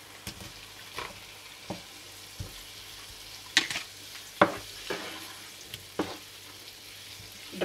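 Cod frying in a pan, stirred in irregular scrapes and clacks over a steady low sizzle, with a few sharper utensil knocks standing out near and fairly loud.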